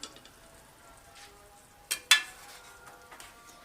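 Black peppercorns and whole spices sizzle softly while they roast in a pan, with a quiet steady fry and a couple of sharp clinks from a utensil against the pan.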